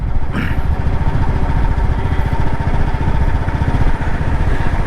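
A Royal Enfield Meteor motorcycle with 28,000 km on it runs close by, its engine giving a loud, steady, thumping idle throughout.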